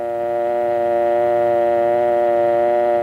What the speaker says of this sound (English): remove the receiver and listen for the dial tone